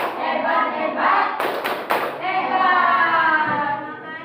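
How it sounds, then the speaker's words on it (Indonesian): A group performs the 'tepuk hebat' clapping chant: voices chant rhythmically throughout, broken by three quick, sharp bursts of unison clapping in the middle. "kita kasih tepuk hebat dulu. Ya, tepuk hebat untuk kelompok Hulek."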